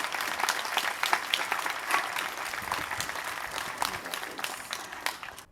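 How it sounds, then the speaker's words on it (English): A crowd clapping at an outdoor vigil in Orlando, steady scattered applause from many hands at moderate distance, fading out at the end. "Who in the fuck is clapping at this?"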